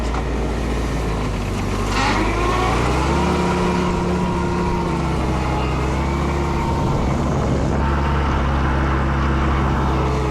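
A tractor pulls a multi-bottom plow through a grass field in first gear, its engine a loud, steady low drone that dips and rises slightly in pitch as the load changes, heard up close with no talking.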